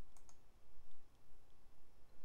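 Mouse clicks on arrow buttons in Mixcraft software, several crisp, close clicks near the start followed by a few fainter scattered clicks over a low background hiss.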